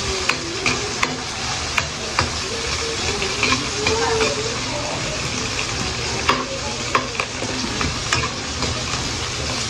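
Chopped onions sizzle and fry steadily in a hot pan, with a spatula stirring and scraping through them in repeated light clacks against the metal, close and continuous for the whole stretch.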